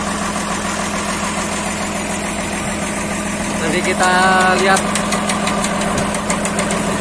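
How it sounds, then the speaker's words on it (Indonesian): A winch engine on a ship at a dockyard runs steadily with a knocking idle rumble, loud and close, while someone talks over it. "Ini mesin wingnya sudah nyala,"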